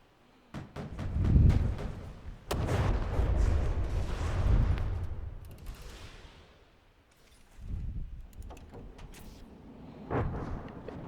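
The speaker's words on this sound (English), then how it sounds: "Torpedoes hitting and dealing some nice damage to it." Torpedoes strike a ship in a naval patrol video game, producing a series of deep booming blasts and rumbling impacts at medium distance, separated by short quieter gaps, with scattered sharp cracks and no talk.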